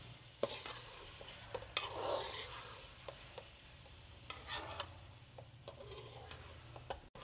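Quiet background sizzle of mixed vegetables frying with spices, with scattered ticks and scrapes of a utensil stirring in a pan, fairly faint throughout.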